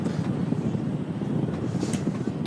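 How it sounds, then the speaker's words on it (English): Steady wind gusting across the microphone outdoors at Manchester Airport, a constant low rumbling buffet, fairly loud and unbroken, with no voices. "It's pretty windy today as well."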